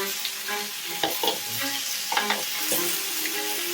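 Chicken wings sizzle steadily in a hot pan while tongs clack and scrape as they are flipped, a few sharp metallic knocks standing out above the constant frying hiss.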